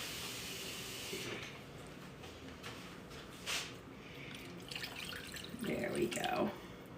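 About two cups of broth are poured into a soup pot for chicken and dumplings soup, a soft hiss giving way to a close, trickling splash near the end.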